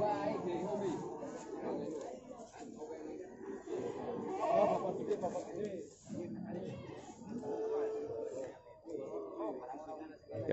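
Etawah goats of the Kaligesing breed bleat repeatedly nearby amid a crowd of people chatting and talking throughout.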